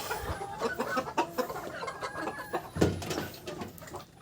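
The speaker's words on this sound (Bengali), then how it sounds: "দেখতে পাচ্ছেন আমার এখানে রয়েছে তিরিশ থেকে পঁয়ত্রিশটা মুরগি" A flock of thirty to thirty-five golden hens clucks close by, a busy overlapping chatter of short calls with one louder squawk partway through.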